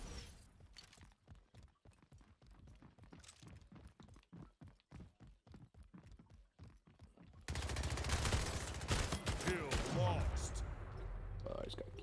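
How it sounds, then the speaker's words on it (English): Assault rifle fire in a video game, a rapid run of sharp, evenly spaced shots for several seconds, followed by a sudden louder wash of dense action noise. "Freaking assault rifle."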